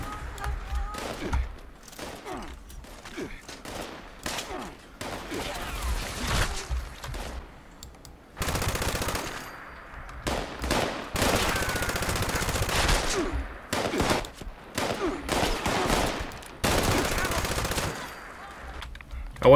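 Gunfire from a weapon in Fallout 76 comes in repeated loud automatic bursts separated by short pauses. Game noise fills the gaps and some speech-like voices mix in.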